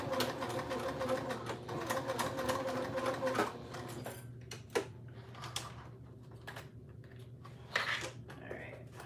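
A sewing machine stitches a fabric pouch, running steadily through the first few seconds with back stitching over a middle seam, then stopping, leaving quieter handling noises and a couple of sharp knocks.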